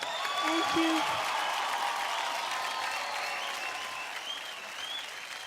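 A studio audience at a Marathi dance reality show applauds a jazz dance performance with loud, sustained clapping that slowly tapers, a voice briefly heard near the start.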